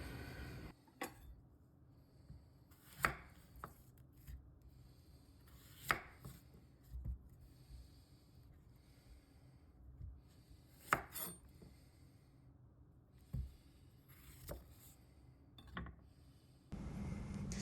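A knife cuts sweet potatoes into cubes on a board, producing irregular sharp thuds spaced a second or two apart in a quiet room, close and distinct, with no speech.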